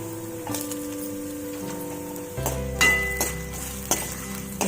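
Chopped ginger sautéing in a pan for kara paniyaram chutney, a soft steady sizzle with the occasional scrape and clink of a stirring spoon against metal, close and continuous.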